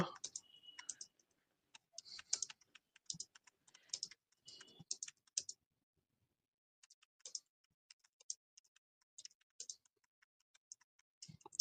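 Keyboard typing as a question is entered into ChatGPT: bursts of quick, close clicking keystrokes separated by short pauses, fairly quiet.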